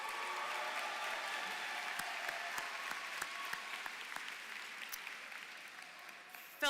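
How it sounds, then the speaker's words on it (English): An audience applauds at a graduation commencement ceremony, steady moderate clapping from a crowd in a hall with a few sharper individual claps standing out, lasting several seconds. "They want to clap for you right away."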